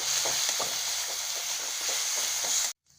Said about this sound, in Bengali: আমি এক চামচ আদা রসুন বাটা দিচ্ছি আদা রসুনটা খুব ভালোভাবে ভেজে নেব